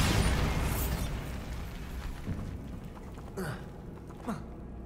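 A Bombarda spell in Hogwarts Legacy bursts with a loud, broad blast at the start, then trails off into a rumbling, crackling decay. A few smaller pops and debris clatters follow.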